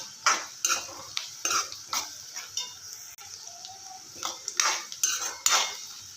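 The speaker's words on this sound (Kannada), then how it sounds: "ಚೆನ್ನಾಗಿ ಮಿಕ್ಸ್ ಮಾಡ್ಕೊಳ್ಳೋಣ." Chillies and peanuts being stirred in a pan for poha, a metal spoon scraping and clinking against the pan in quick irregular strokes, close and fairly clear with no talk.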